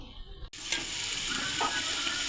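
Tomatoes tipped into a pan of sautéed onions for a curry set off a sudden loud sizzle after a brief quiet moment, then a steady close hiss of frying continues.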